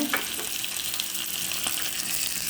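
Ginger, green chili and curry leaves frying in hot oil, giving a loud, dense, continuous crackling sizzle with small bursts of popping throughout.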